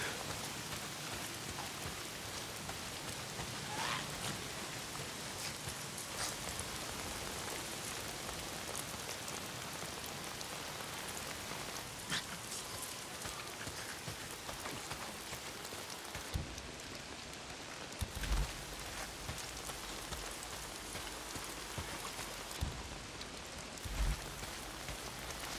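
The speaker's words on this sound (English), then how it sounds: "Why is it always raining?" Steady rain pours down in Days Gone, a continuous dense hiss of drops on surfaces lasting throughout, with a few soft thuds near the end and no talking.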